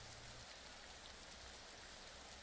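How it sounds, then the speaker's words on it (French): Steady, dense rain drums on the roof of a pizza food truck parked on a deserted road, an even broadband hiss that fills the whole stretch without pause. "La pluie continuait de marteler le toit du camion de Marco"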